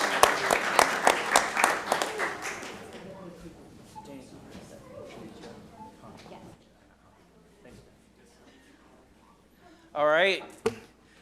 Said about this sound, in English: one more round of applause for Potter Gray